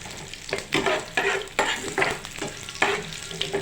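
Chana dal, urad dal, curry leaves, mustard seeds and dried red chillies sizzle and crackle in hot oil for a tempering, with repeated bursts of stirring scraping the pan in an uneven rhythm, close and fairly loud, with no talking.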